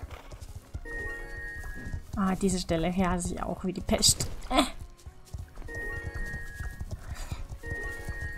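Hoofbeats of a galloping horse in the video game Star Stable Online, a rhythmic clip-clop running under someone talking throughout, with brief in-game musical tones around it.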